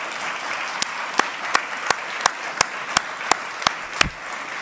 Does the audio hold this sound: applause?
yes